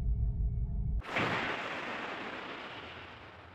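A submarine video game's torpedo launches with a sudden loud whooshing burst that cuts off a low machinery hum, then decays slowly into a long hissing rush of water and air.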